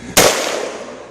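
A one-pound tannerite target detonates when shot, a single sharp, loud blast with a rumbling decay trailing off over about a second.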